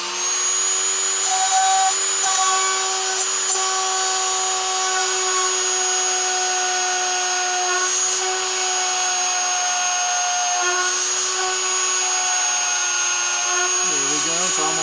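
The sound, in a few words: drill boring through sea glass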